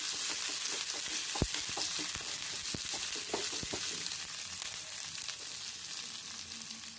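Ginger and green chillies sautéing in a pan, producing a continuous close sizzle with scattered sharp crackles and pops, no voices over it.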